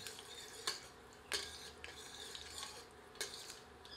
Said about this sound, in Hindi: गर्म तेल में थोड़े सूखे साबुत गरम मसाले सम्मिलित करते हैं।